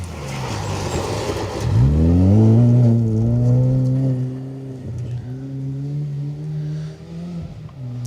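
A two-wheel-drive rally car, number 30, blasts past on a Greystoke Stages special stage, engine note rising loudly as it approaches then holding a strong steady drone as it passes close by and pulls away.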